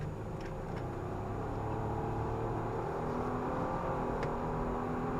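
A 2014 Nissan Pathfinder pulls away from a stoplight, heard from inside the cabin as a steady engine drone and road hum that builds gently, with a few faint clicks and no talking.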